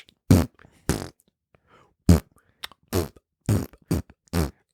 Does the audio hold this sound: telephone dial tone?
no